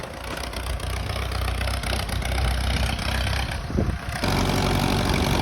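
An old tractor engine, recently revived after sitting overgrown in a bush, runs at a steady, loud idle throughout, with a brief shift in its note near the end and no voices.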